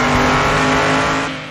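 Car engine in the Car Parking Multiplayer driving game, a loud steady roaring drone that holds close and then fades slightly toward the end.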